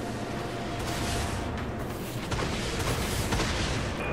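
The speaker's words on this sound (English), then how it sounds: "I launch torpedoes." Torpedoes fire from a warship in Dreadnought, a dense sustained roar of launch rumble and blasts that fills the whole clip and swells toward the end.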